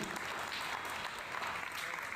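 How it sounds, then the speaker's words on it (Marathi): An audience at a ceremony honouring tenth- and twelfth-grade students claps loudly and continuously, a dense wash of many hands throughout. "त्या विद्यार्थ्यांसाठी आपण जोरात टाळ्या वाजवायची एकदा सगळ्यांनी।"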